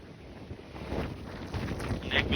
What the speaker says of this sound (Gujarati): પવન તો મિત્ર બહુ આવે છે, પવન બહુ આવે છે